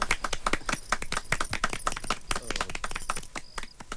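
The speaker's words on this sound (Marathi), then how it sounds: "टाळ्या." Applause from an audience at a Marathi tamasha folk performance, a brief burst of rapid, dense clapping that stays fairly even and moderately quiet without any voices.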